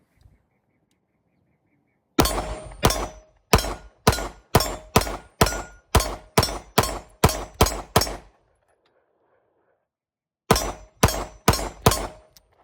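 A Fusion Firearms XP Pro pistol firing at about 10 yards on a range, a rapid string of about twelve loud evenly spaced shots with ringing steel target hits, a pause with a brief spoken word, then four more quick shots.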